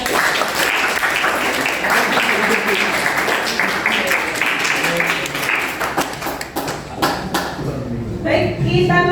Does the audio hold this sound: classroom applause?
yes